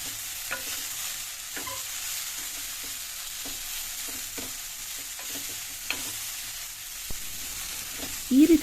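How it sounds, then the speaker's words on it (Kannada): Cauliflower pieces fry gently in a little oil over a low flame, giving a soft, steady sizzle with occasional faint clicks of stirring and a brief louder scrape at the end, with no talking. "ಈ ಥರ ಸ್ವಲ್ಪ ಆಯಿಲಲ್ಲಿ ನಾವು ಫ್ರೈ ಮಾಡೋದ್ರಿಂದ ತುಂಬಾ ಟೇಸ್ಟ್ ಚೆನ್ನಾಗಿ ಬರುತ್ತೆ ಸ್ವಲ್ಪ ಲೋ ಫ್ಲೇಮಲ್ಲಿ ಮಾಡಬೇಕು"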